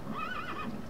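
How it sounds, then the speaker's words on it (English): A Minecraft horse lets out a single whinnying neigh, close and clear, its wavering call rising and falling over about a second with no talk. "You've produced what, to all intents and purposes, looks like just a regular horse"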